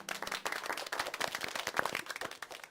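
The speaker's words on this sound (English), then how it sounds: "You can, and we all shall applaud for you." An audience at a prize presentation ceremony claps steadily for a winning team, the applause dense and continuous with many overlapping hand claps throughout.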